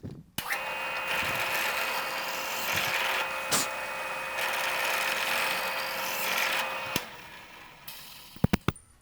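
A power drill bores steadily into wood, a continuous whirring grind for several seconds, then cuts off, followed by a few sharp clicks.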